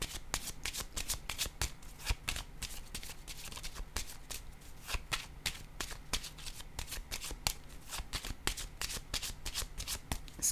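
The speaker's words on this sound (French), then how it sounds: "Je vais déposer une autre carte" Tarot cards are handled and laid onto a table, giving a long run of crisp, rapid papery flicks and taps close by, with no talking.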